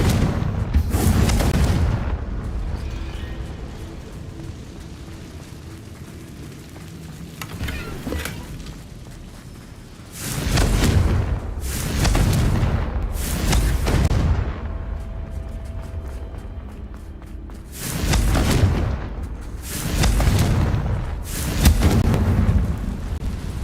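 Confringo blast spells in Hogwarts Legacy go off as a series of loud, deep booming explosions, some single and some in quick clusters, separated by quieter stretches of rumbling ambience.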